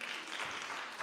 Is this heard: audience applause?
yes